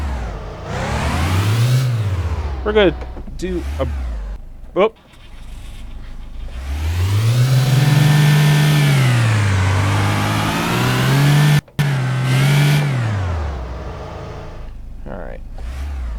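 A car engine in the City Car Driving video game revs hard in repeated rising and falling surges, with wheel spin, then cuts out briefly. Someone talks over the engine noise.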